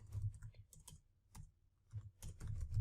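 Fingers tap quietly on a computer keyboard in short, irregular bursts of clicks separated by brief pauses.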